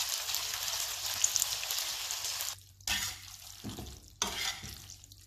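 Spaghetti aglio, olio e peperoncino being tossed in a pan, with a steady close sizzle and frying hiss that breaks off briefly twice as the pasta is flipped, then resumes.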